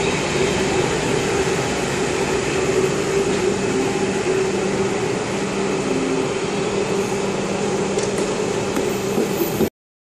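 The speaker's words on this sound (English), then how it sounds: "my train is here" A train rumbles into a station in Paris, Brussels or Bruges with a loud, steady roar and hiss of rolling wheels, a faint squeal near the end before it stops abruptly.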